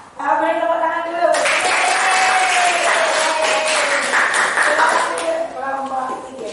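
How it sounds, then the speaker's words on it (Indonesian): A class breaks into a burst of lively clapping that runs for several seconds before tapering off, with a voice talking just before and just after the applause. "boleh tepuk tangan dulu"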